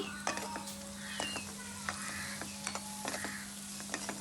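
Chili powder being stirred into a Telugu-style egg curry in a pan, a steady scraping and clinking of a utensil over a faint low sizzle, with short repeated strokes at close range.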